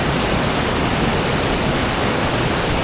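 Sicamous Creek Falls, a waterfall in the Shuswap area, roars as a dense, steady broadband rush that stays loud and close without any break.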